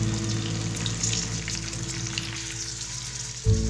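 Beef 65 with green chillies frying in a pan, a continuous loud sizzle with crackling bubbles and a short stir-like bump near the end, no talking.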